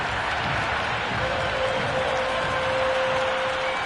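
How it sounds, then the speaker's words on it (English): Crowd noise filling a cricket ground during an India vs Australia T20 World Cup match, a steady, dense roar of many voices and cheering with a faint sustained tone running through it. "the crowd have joined the party. It's pretty noisy at the ground"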